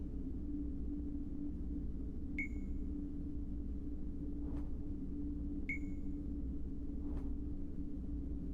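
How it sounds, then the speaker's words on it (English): An electronic device beeps in the video game Dreamfall Chapters, two sharp high pings about three seconds apart, each followed by a softer swish, over a low steady rumble. "Do you hear that beeping?"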